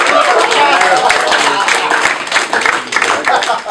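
Loud, close audience clapping fills a stand-up comedy show, a dense ongoing burst of applause with voices mixed in.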